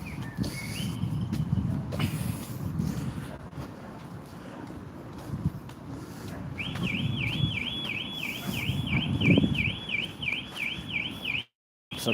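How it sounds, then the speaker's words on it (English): A car alarm in a Norwich car park wails in a fast repeating warble, starting partway in and running steadily at moderate distance over wind buffeting and outdoor street rumble, then briefly cutting out near the end. "A car alarm going off there."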